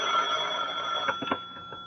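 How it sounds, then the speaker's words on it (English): A telephone bell rings steadily in a radio drama scene, a continuous bright ringing that fills the short moment with no voices over it. "So will that phone ever stop ringing so we can get on with this?"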